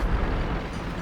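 A tank shot bouncing off armor in World of Tanks: a brief, dense, booming impact with rumbling low-end body filling the moment.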